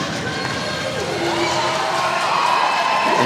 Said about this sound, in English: As that goal was announced, there was a big cheer across the O'Brien Icehouse